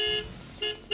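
A car horn sounds in short, loud honks, one long blast followed by two quick toots, used as a punchy sound effect on a TV news program.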